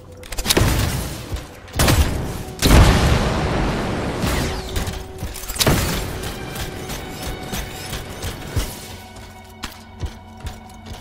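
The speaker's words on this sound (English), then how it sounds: "It'll be a contained explosion." Heavy explosions go off in the video game Anthem, with several loud booms in the first six seconds that each trail into a rumbling decay. Fainter clanks and pops follow.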